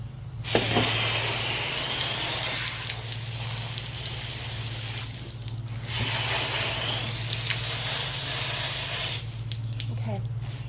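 Tap water runs continuously into a sink as a freshly processed farm chicken is rinsed, a steady hissing spray with faint handling splashes and a low hum beneath, while a person talks briefly.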